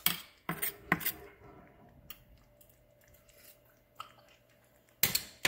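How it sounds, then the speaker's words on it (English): Spoon clinking against a pot while spaghetti sauce is tasted, a few sharp metallic taps and soft mouth sounds, close and quiet with gaps of near silence. "Let me taste the sauce."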